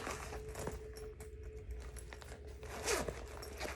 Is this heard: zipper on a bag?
yes